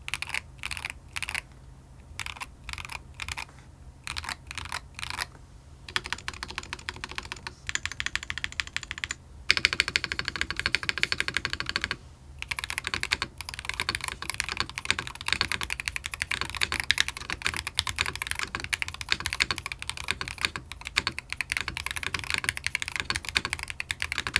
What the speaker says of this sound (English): typing on here actually sounds surprisingly good